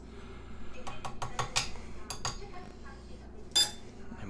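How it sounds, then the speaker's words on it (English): A spoon clinks and scrapes against a bowl while vanilla extract is mixed into creamed butter and sugar for crunchy, chewy chocolate chip cookies: a quick burst of sharp taps, then quieter scraping and one bright clink near the end. "And we're going to finish mixing that in together."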